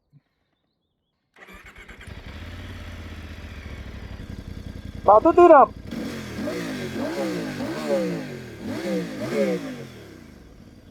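A Voge DS800X Rally motorcycle, an 798 cc machine with a tuned exhaust, cranks over and fires, then idles before a loud burst of revs and a series of rising and falling throttle blips, recorded close with no talk over it.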